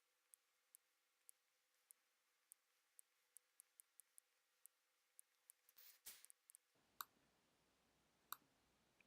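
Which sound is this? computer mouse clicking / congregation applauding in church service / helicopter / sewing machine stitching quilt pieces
computer mouse clicking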